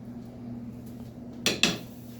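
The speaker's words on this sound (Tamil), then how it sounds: "பாத்திரத்தை கழுவி அடுப்பில் வச்சு" A metal cooking pot is washed and set down on a stove in a home kitchen, giving two sharp clanks close together, heard near and clear over a quiet background hum.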